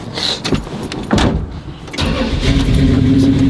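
A muscle car engine cranks and catches, settling into a loud, steady idle with a low rumble, heard up close from inside the car after some brief rustling and shuffling.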